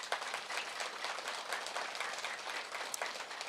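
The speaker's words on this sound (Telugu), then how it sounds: "సరే, క్లాప్స్ కొట్టండి." An audience at a spiritual meditation class in Telugu breaks into steady applause, a dense, even wash of many hands clapping with no voices on top.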